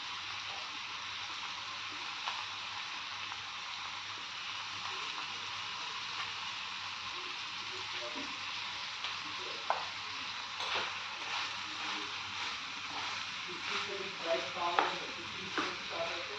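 Cauliflower frying in a pan with a steady hissing sizzle throughout, joined later by soft scrapes and taps of stirring toward the end.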